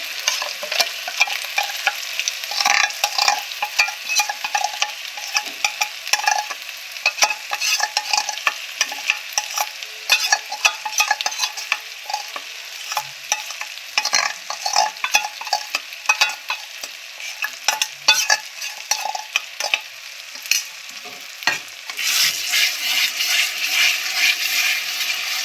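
Chicken masala spices being stirred and fried in a pan, a continuous sizzle with steady scraping stirring strokes throughout, close and loud with no talking.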